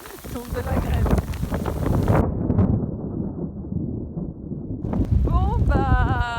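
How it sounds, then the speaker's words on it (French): Strong wind buffets the microphone in loud rumbling gusts on a hike amid rain and hail, with a brief lull midway, and a voice speaks over it at moments. "le vent souffle"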